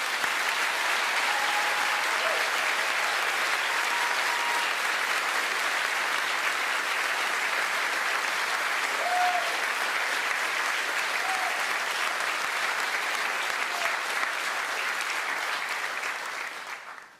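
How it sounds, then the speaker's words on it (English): A large graduation ceremony audience at Lancaster University applauds the graduating cohort, steady dense clapping from a big crowd filling the hall without a break, then quickly fading out at the very end. "a final round of applause really for our graduating cohort"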